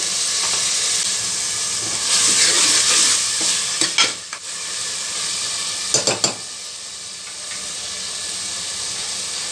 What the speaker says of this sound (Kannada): ಟಮಾಟೊ ಸ್ವಲ್ಪ ಎಣ್ಣೆಯಲ್ಲಿ ಫ್ರೈ ಆಗಬೇಕು